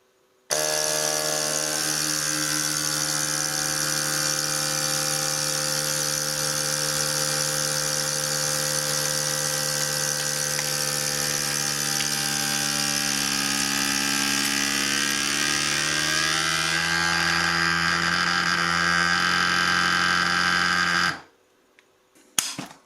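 A CalmDo vacuum sealer runs steadily for about twenty seconds on its dry setting, drawing air from a bag with a sustained loud motor whine and hum that shifts slightly in pitch near the end before cutting off abruptly.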